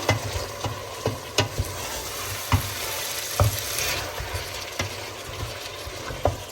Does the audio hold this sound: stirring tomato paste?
yes